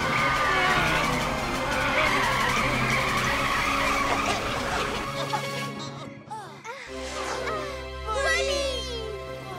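A cartoon car speeds along and skids at night, with a loud, sustained whine of engine and squealing tyres that shifts into rising and falling screeches, while a character's voice talks over it.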